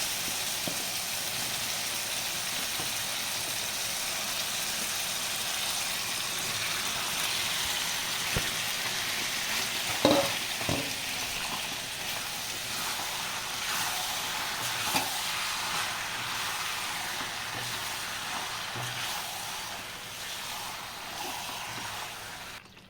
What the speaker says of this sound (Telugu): మగ్గిపోయిన తర్వాత ఈ రొయ్యలు కూడా వేసేసుకుందామండి